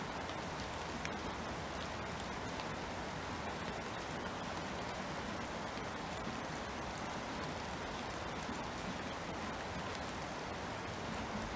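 Steady rain pours down on an alien planet in the survival game The Planet Crafter, a dense, even hiss spanning the whole stretch with no pauses and no voices over it.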